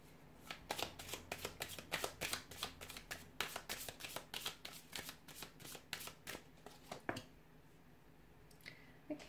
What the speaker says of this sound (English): let's shuffle the cards and see